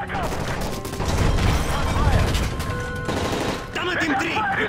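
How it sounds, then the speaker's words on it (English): Bursts of rapid gunfire ring out during a plane hijacking in Call of Duty: Modern Warfare 3, dense and close with a brief lull. Shouting voices mix in under the shots. "That's gunfire!"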